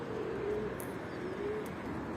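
Soft, low cooing of pigeons, two gentle calls over a steady outdoor background hiss.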